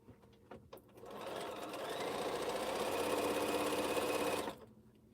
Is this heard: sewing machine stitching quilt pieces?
yes